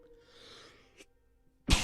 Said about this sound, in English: I had to get that cough out.